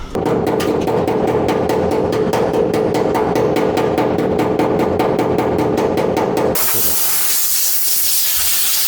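Rapid, evenly spaced metal strikes ring out on the welded body panels of an Audi 100 C1 restomod for about six seconds, then give way to a steady, loud hiss.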